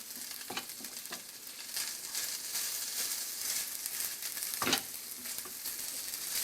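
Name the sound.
salmon rissole filling sizzling as it sautés in the pan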